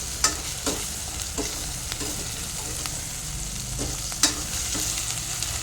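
Turmeric is stirred into a mutton curry base frying in a pan, giving a steady close sizzle with repeated scraping strokes of a spoon and a couple of sharper clacks, and no voices.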